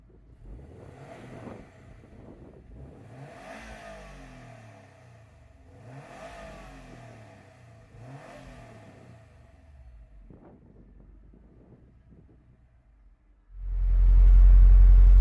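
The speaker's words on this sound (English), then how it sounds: "let's fire it up and see what it sounds like" A 2020 Subaru WRX STI Series White engine starts and idles with a low rumble, revving up and down several times in repeated surges, then roars loudly as it is pushed hard at the end.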